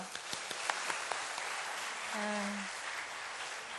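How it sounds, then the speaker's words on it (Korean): A church congregation applauds in welcome during an evening worship service, a steady wash of clapping running through the whole stretch, with a brief spoken voice rising over it midway. "환영의 박수로 환영해 주시고요"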